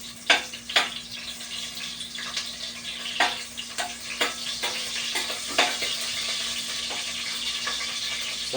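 Onions sauté in a pan for chicken tinola, a loud, steady sizzle broken by sharp scrapes and clacks of a spatula stirring at irregular intervals.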